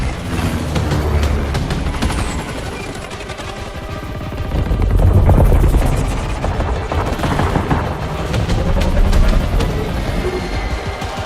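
A helicopter in Battlefield 2042 roars steadily with thumping rotor noise, mixed with bursts of gunfire and rumbling engine sounds, loud and continuous.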